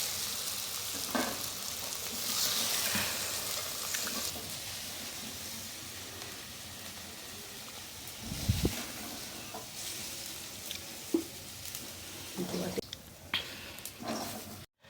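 Water spinach (kalmi greens) fries in a pan with a steady soft sizzle, broken by scraping stirs and a few sharper knocks near the end, while a voice talks now and then.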